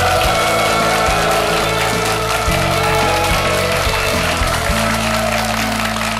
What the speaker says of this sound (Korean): 여러분 박수로 맞아주십시오.